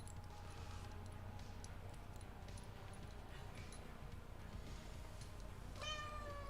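A large cat, apparently in the game Space Engineers, lets out a single short meow near the end, heard over a steady low ambient hum and faint ticking, with no voices.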